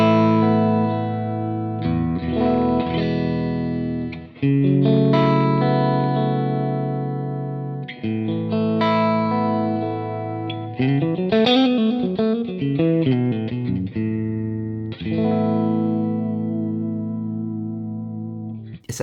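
An electric guitar played through an Amplified Nation Overdrive Reverb amp set to a mid-forward Dumble-style clean tone rings out in sustained chords and quick melodic runs, with pauses between phrases, loud and clear with no talking.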